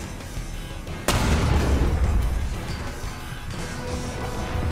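A big bomb blast in War Thunder tank combat: one sudden, loud crack followed by a heavy low rumble that decays over a couple of seconds, amid continuous battlefield engine noise.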